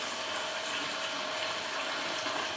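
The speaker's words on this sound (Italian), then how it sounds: "Vado di nuovo ad erogare l'acqua" Steady rushing water pours continuously at moderate level from a Lilliput 2.0 coffee machine being flushed, a constant hissing flow with no speech.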